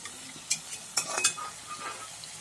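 Potato smileys sizzle in hot oil for a short stretch while a utensil clinks against the pan a few times.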